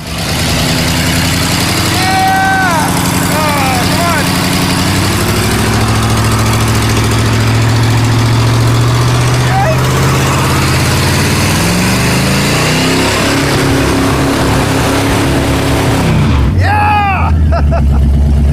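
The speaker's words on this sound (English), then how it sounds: "it was time for the first burnout" A 1968 Ford Mustang Mach 1 engine roars and drones continuously during a burnout, its pitch shifting as it revs up and down, with a few brief tire squeals over the steady rumble.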